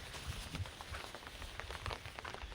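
Rain patters steadily on a hillside, a soft, dense drumming of drops on the ground and leaves, faint and even throughout.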